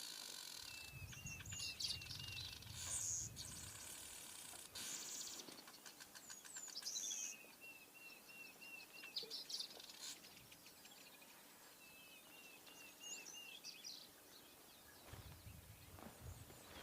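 Diederik's cuckoo giving repeated clear whistled calls outdoors at moderate distance, with other faint bird chirps and insect hum around it and a few low thumps.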